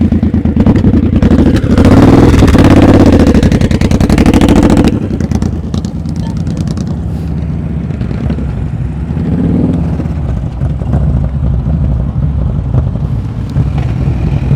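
A motorcycle engine holds a low, steady drone during slow-speed riding practice, louder and rougher at first, then easing to a softer continuous hum with wind buffeting the microphone.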